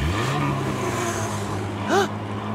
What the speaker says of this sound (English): It's a crowd cheering and monster trucks roaring!